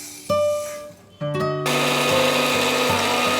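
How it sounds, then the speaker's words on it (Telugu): A mixer grinder grinding roasted fenugreek seeds into powder, loud close whining motor that starts, briefly stops, then restarts and runs steadily with rattling jar, no talk. "ఇప్పుడు మనం మిక్సీలో వేసుకుని పొడి చేసుకుందామండి"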